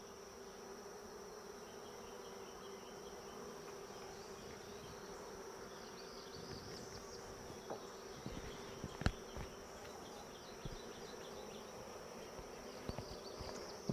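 Swarm of honeybees fanning at the entrance of a hive, a steady close buzzing drone with a high whine that holds for the whole stretch, with a few faint knocks and rustles near the end and no voices.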